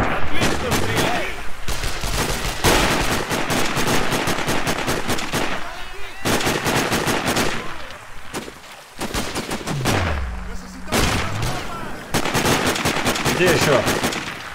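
Rapid gunfire from the video game Sniper Ghost Warrior rattles in dense automatic bursts, loud and close, broken by short pauses, with a voice shouting over parts of it.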